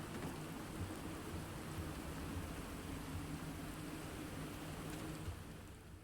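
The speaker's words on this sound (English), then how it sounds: "I don't really want like loud rushing rain" Loud rushing rain ambience in a video game, a dense, steady hiss of falling water that holds evenly throughout and fades slightly at the end, with no voices.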